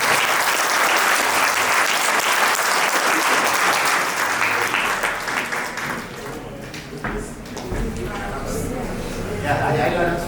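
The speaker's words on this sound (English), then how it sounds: "Let's give them a big round of applause" A conference audience at an international yoga summit gives a panel a big round of applause. The clapping is loud and sustained for about six seconds, then fades under talk and handling noise.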